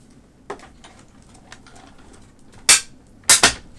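A die-cutting machine pressing a die through: a faint early click, then a few loud, sharp crunching bursts close together near the end, heard close with no talk.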